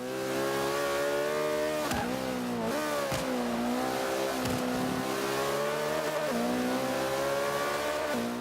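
McLaren P1 hypercar in Forza 5 lapping a track with a corkscrew, its engine holding a loud high rev with rising and dipping pitch through gear changes and corners, continuous and close.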